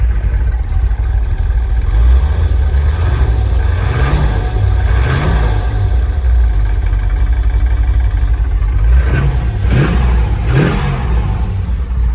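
A 1968 Shelby GT500 engine idles loudly up close and is blipped several times, each rev swelling and falling back into a rumbling idle.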